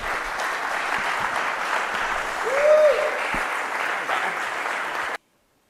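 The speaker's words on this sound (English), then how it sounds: "let's give a round of applause for Christine" A conference audience applauds a speaker introduced to talk about privacy in handoff and continuity: steady, dense clapping from a full room for about five seconds, with a brief whoop partway through, then an abrupt cut to silence.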